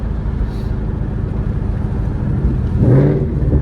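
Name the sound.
Mustang with upgraded exhaust, rev matching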